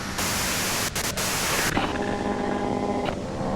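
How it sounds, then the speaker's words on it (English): Steady broadband white-noise static fills the whole stretch, loud and unbroken, with a brief dip near the middle and faint tonal bands appearing in the second half. "you can do it through the white noise."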